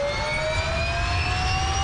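Learjet 60 jet engines whine steadily while taxiing, a sustained high tonal whistle with slowly rising pitch over a low rumble, loud and near, no talk.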